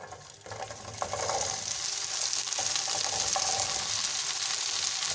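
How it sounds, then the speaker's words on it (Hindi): Okra (bhindi) frying in oil on a low flame, a dense, continuous sizzle that swells after the first second and holds steady and close. "तो भिंडी इसमें शुरू डालते हैं और इसको फ्राई कर लेते हैं।"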